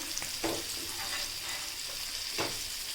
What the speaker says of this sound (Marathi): स्लो गॅसवर आपण आता हे बागडे फ्राय करून घेणार आहोत